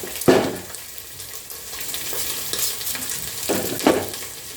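Onions frying in a pan for omena, the Kenyan sardine dish, a close sizzle punctuated by a few sharp bursts as they hit the hot oil, with stirring in between.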